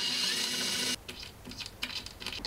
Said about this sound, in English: The one annoying thing is I have to drill the hole a little bit bigger